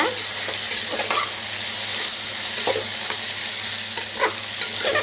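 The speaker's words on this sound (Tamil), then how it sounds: "எல்லா காயும் நல்லா கிண்டி விடலாங்க" Carrots, beans, potatoes and other vegetables sautéing in a pan for veg kurma, a steady sizzle punctuated by repeated scraping and clattering stirs of a spoon, close and without any talking.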